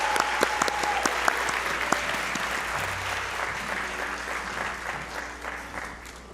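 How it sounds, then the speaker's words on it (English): Audience applause at a 2026 Black Excellence Awards ceremony at Elon, steady broadband clapping from a sizable crowd filling the hall, sustained throughout with a few sharper individual claps standing out, no talk over it. "Let's give another round of applause for Layla and Cavalon."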